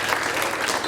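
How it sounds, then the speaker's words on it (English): Comedy theater audience giving a round of applause, a brief dense wash of many clapping hands at steady loudness. "Give a big round of applause to our video director"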